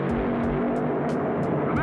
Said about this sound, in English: contest between 2 cars, racing from a standing start over a precisely measured straight-line quarter-mile course